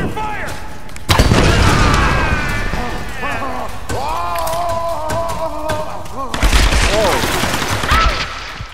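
Gunfire and heavy thuds in a catacombs fight in the 2013 Tomb Raider game, dense and loud, mixed with voices shouting over the shooting.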